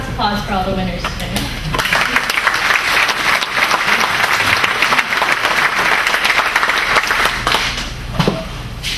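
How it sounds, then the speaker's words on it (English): A large audience at a 10th-anniversary gala claps loudly and steadily for the award winners, a dense continuous wave of applause that fades slightly at the end, with some voices faintly mixed in. "One last applause for all the winners today."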